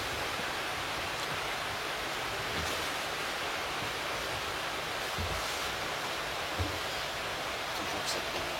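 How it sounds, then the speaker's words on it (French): A private mountain stream on wooded chalet grounds near Chamonix flows with a steady, soft broadband rush, faint and unbroken throughout. "le ruisseau qui est complètement privatif."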